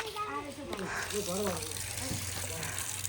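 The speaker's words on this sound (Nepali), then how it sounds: "यिनीहरूले चाहिँ धारामा पानी थाप्दै छ" Water gushes steadily from a public tap into a container at the Mahakali temple in Bhaktapur, a continuous close splashing flow under people chatting nearby, including children's voices.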